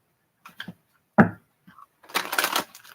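Tarot cards are shuffled in a few short bursts: scattered light taps, a sharp slap, then a crisp riffle of cards close by in a quiet room.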